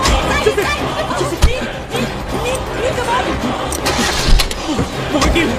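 A car engine starting in an action movie chase scene, loud and continuous with a rough mid-range drone under overlapping voices and busy background noise.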